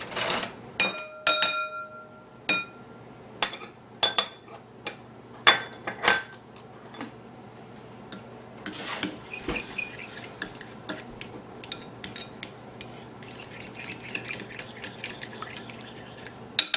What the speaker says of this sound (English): You can use a spoon or a fork. Just try to get all the butter lumps out.